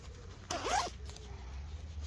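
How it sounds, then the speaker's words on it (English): The zip on a Vango Microlite 300 lightweight four-season sleeping bag is pulled in one quick, close rasping stroke over a quiet background. "includes a zip guard to prevent snagging when zipping up and down"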